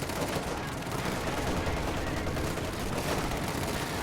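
Dense gunfire rattles without pause in Company of Heroes 2, a World War II strategy game, with rifle and machine-gun bursts layered into a loud, continuous wash of battle.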